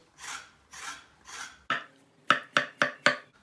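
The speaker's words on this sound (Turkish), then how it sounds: "kabakları şöyle bir çatal yardımıyla çiziyoruz" A fork scores raw zucchini for a Turkish zucchini moussaka, giving three slower scraping rasps followed by four quick, sharp scratches, close up with no voices.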